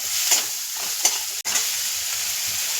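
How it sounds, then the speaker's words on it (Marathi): Green chili garlic thecha, coriander and tomato sautéing in oil for a guar thecha, a steady close sizzle with occasional stirring scrapes and a brief clack. "हे मसाले परततात आहे"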